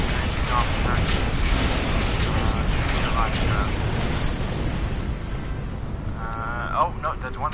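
Torpedo explosions in the Star Trek Online space game: dense, rumbling blasts roll on continuously at close range, with game effects layered over them and a quieter tail near the end.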